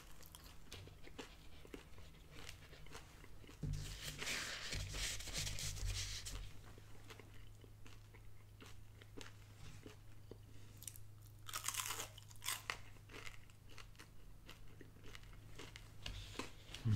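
Crisp crunching from a close bite of a Taco Bell rolled chicken taco, then steady chewing with a second burst of crunches a few seconds later, no talking.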